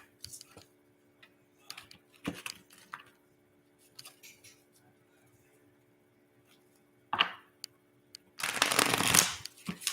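Playing cards are shuffled with soft scattered flicks and taps, ending in a loud riffle burst near the close.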